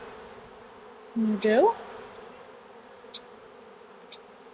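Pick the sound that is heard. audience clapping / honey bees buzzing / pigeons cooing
honey bees buzzing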